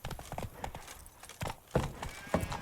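Roach, the horse in The Witcher 3, gallops in a quick, uneven clip-clop of hooves amid game ambience, fairly faint and mixed with background noise.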